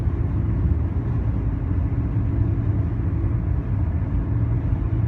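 Steady low rumble of road and engine noise inside a car climbing a hill on a 55 mph road, continuous and even with no talk.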